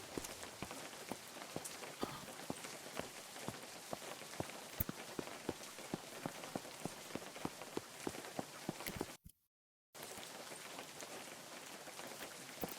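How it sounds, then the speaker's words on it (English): Steady rain patters in the video game Unturned, a dense hiss broken by many sharp droplet ticks that carries on loudly before cutting out briefly, then resumes. "Hopefully the rain will stop soon, and I can see again."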